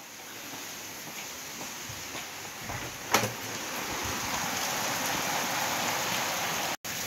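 Heavy rain pours down steadily and close by, a dense continuous hiss of drops hitting surfaces, with a brief louder knock near the middle and no voices.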